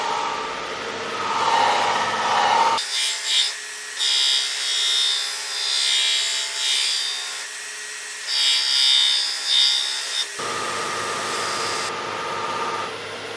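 A turned pine bowl finished with sealer and polyurethane is buffed on the lathe, a steady spinning rub with rasping friction that swells and eases in waves, loud and close with no talk.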